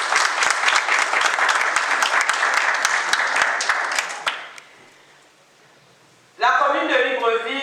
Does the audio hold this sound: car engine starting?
no